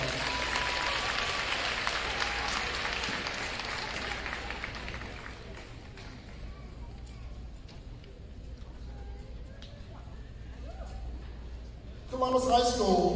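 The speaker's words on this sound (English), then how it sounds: "Let's give them a round of applause." Steady applause from a large crowd at a high school class night fills the room for several seconds, fading slightly, then a brief louder burst of clapping near the end.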